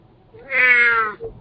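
A single drawn-out cat meow rises and falls over about a second, fairly close and clear, followed by a brief softer chirp. No talking.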